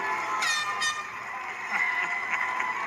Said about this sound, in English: Oh, the air horns are in here.